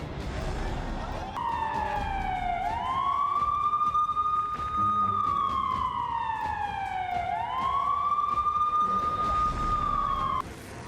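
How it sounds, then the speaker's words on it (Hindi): A loud warning siren before the Twin Tower demolition wails, rising and falling in long slow sweeps, repeating twice, steady and prominent over faint background noise. "सारी तैयारी होने के बाद पहला सायरन दोपहर 2 बजे बजना शुरू हुआ।"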